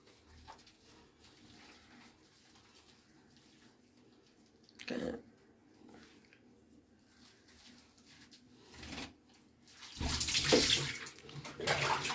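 Warm water is poured and splashed while a cat is bathed, soft trickling in the background broken by short bursts of pouring, with a louder, longer splash near the end.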